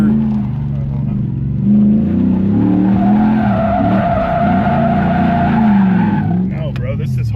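A 1UZ-FE V8-swapped Mitsubishi Starion slides with a long, loud tire squeal over the droning engine, held for several seconds before fading as people talk.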